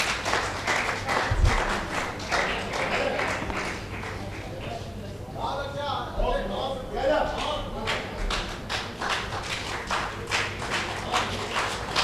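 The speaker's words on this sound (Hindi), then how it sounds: "एक बार तालियां बजा करके मुझे सूचित कर दीजिए" An audience at a monthly Hindi poetry gathering (kavi goshthi) claps in sustained, rapid applause. A voice briefly rises over the clapping midway before the applause swells again.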